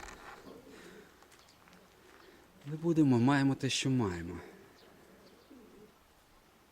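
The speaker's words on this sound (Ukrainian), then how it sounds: "Це четвертий номер, ну, сіра голубка рябохвоста. Гарна голубка." A grey pigeon with a barred tail coos in a short, throaty burst in the middle, loud and close, while someone talks quietly before and after it.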